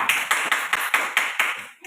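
Classroom clapping for a student group, about seven evenly spaced rhythmic claps in unison from a small class, moderately loud and close, with no talking.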